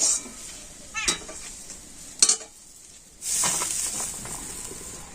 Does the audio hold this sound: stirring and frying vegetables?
yes